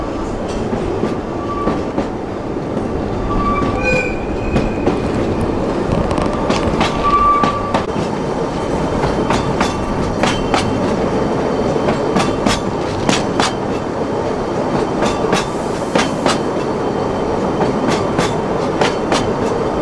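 An Oigawa Railway train runs over the rails on a steep mountain gradient section. Steady, rhythmic clickety-clack of wheels over rail joints continues throughout under a rumbling carriage interior, with faint wheel squeals early on and no talking.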